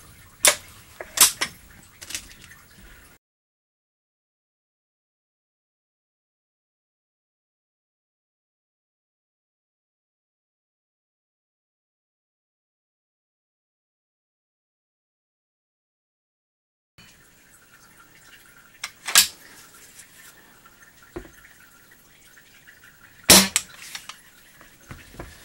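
A Shanghai 61 air rifle fires with a thunk, sharp isolated shots heard at the start and again near the end, separated by a long stretch of silence.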